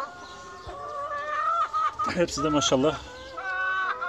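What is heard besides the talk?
chickens clucking in coop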